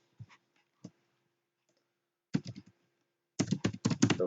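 Typing on a computer keyboard: a couple of isolated key clicks, a pause, then two quick bursts of rapid keystrokes, close and clear.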